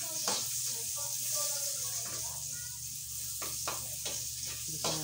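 Onions sautéing in a pan with rendered fat, a close, steady sizzle punctuated by stirring scrapes, while a voice speaks briefly over the frying.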